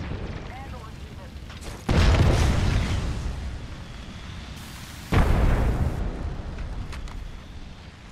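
Two loud grenade explosions in the video game Apex Legends, each a sudden booming blast that decays over a few seconds, about three seconds apart, over quieter game ambience.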